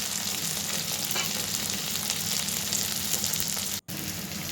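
Tomatoes sizzle and fry steadily in a pan with goat meat curry, a loud continuous crackle close by with one brief drop near the end and no talking.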